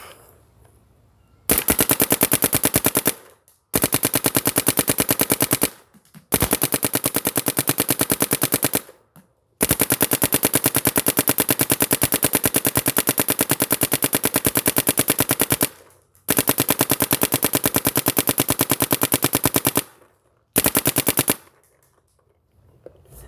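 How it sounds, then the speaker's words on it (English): A heavy Dye DAM paintball marker fires long strings of rapid shots, about six loud, close bursts separated by short pauses, with no talking. "shooting a heck of a lot smoother than a modern high-end gun that weighs only around 2 pounds or less"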